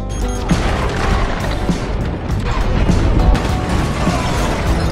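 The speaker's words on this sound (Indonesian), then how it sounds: "Lalu Andre meledakkan ranjau yang telah mereka pasang." Landmines detonate in a war film scene, a dense, loud sequence of booming blasts and crashing debris rumbling continuously for several seconds with no voices.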